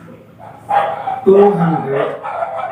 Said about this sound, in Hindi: देखिए कुत्ते थोड़ा भौंक रहे हैं भाई